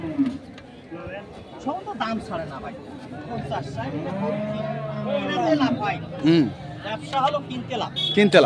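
Bull cattle at a busy livestock market, with a low bovine moo or bellow rising amid steady crowd chatter and nearby talk throughout.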